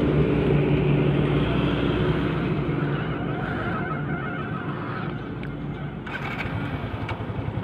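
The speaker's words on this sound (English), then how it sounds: "So now I'm gonna demonstrate how to brake so let's start the bike." A Yamaha motorcycle engine runs at a steady, loud idle, its low rumble continuous and close throughout, easing slightly in level toward the end.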